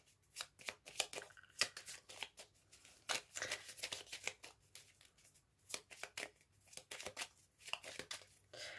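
A deck of tarot cards is shuffled and cut by hand, a string of quick, close riffles and flicking bursts with short pauses between them, fairly quiet and with no voice.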